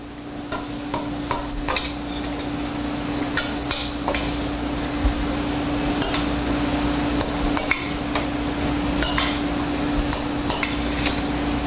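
Cooked crab meat is stirred into ceviche in a bowl. A spoon clinks and taps against the dish in irregular, close strokes over a steady kitchen hum, with no talking.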